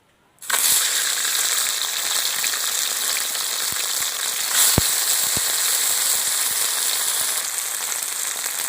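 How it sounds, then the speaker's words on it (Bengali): Prawns dropped into hot oil in a kadai burst into a loud, dense, continuous sizzle that starts abruptly and holds steady, with a few faint clicks of a utensil, close up and without voices. "এবার চিংড়ি ভাজার জন্য কড়াতে আমি তেল দিয়ে দিচ্ছি।"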